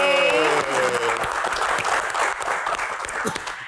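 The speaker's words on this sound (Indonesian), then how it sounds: "kita berikan tepuk tangan yang paling meriah untuk rekan-rekan mahasiswa yang ada di studio Q&A" A studio audience applauds university students in a televised Q&A show, a dense, loud wash of clapping that opens over a fading musical tone and carries on steadily, with a voice briefly audible at the start.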